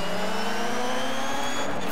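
Rally car engines drone and rev in DiRT 3, a steady mid-pitched roar with rising whine, continuous and loud throughout.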